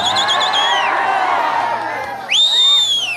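A live stage show crowd whoops and cheers loudly throughout, with a sharp rising whistle near the start and another bright whistle-like shriek bursting out toward the end.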